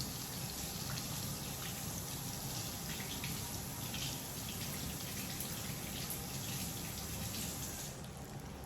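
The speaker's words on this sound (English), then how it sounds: "So basically I rinsed my hands off" Tap water runs steadily over hands being rinsed under a faucet, a constant splashing hiss close by with slight variations as the hands move through the stream.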